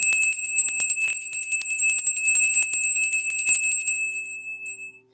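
A high solar plexus chakra bell rings with a sustained bright tone, struck repeatedly in quick succession before fading out at the end.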